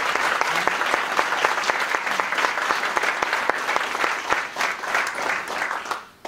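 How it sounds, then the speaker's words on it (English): Applause from the audience at an office Diwali celebration in Sunnyvale rings out loud and sustained for several seconds, a dense wash of many clapping hands that fades near the end. "So let's give him a big round of applause."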